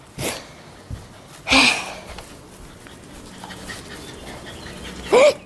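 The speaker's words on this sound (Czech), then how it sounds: "Hele, pejsek tam je, co to je?" A few short dog sounds, panting or snorting bursts, come in brief separate puffs against a quiet background.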